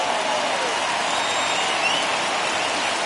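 A packed stadium crowd at a San Diego baseball game in a video game gives off a dense, continuous roar of cheering and applause, loud and steady throughout with no speech over it.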